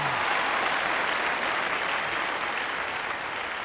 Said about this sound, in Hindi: तालियां एवरीबॉडी